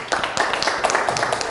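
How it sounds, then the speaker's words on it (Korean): A church congregation claps together during a Korean worship service, a dense burst of handclaps lasting a moment and filling the room at close range. "우리 하나님께 영광의 박수를 한번 올립시다."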